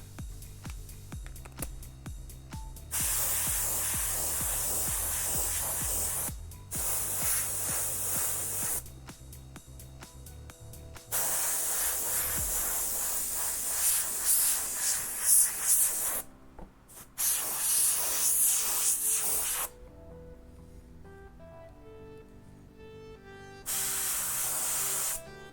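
An airbrush sprays paint onto a custom hat in long steady hissing bursts that stop and restart several times, close and fairly loud, with quiet gaps between passes.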